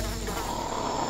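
Insects buzz around a dead carcass in the Jurassic World video game, a dense, continuous whine and drone filling the short moment, close and steady without any speech.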